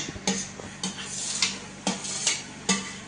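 A spoon stirring potatoes and tomatoes in a pan for Mumbai-style pav bhaji: repeated scraping clinks against the metal, about six strokes at a steady, unhurried pace, heard close with no talking.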